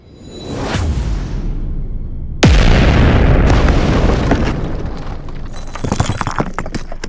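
An explosion sound effect for a ring of fire bursting in the air: a rising rush followed by a sharp, loud boom that rolls into a long roaring tail, with crackling bursts near the end.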